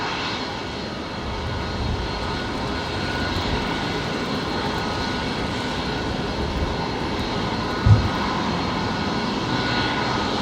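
A Jetstar jet airliner passing over Brisbane Airport, a steady broad engine roar that holds at a constant level throughout, heard from a distance and with one brief thump near the end.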